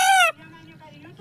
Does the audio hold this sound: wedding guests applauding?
no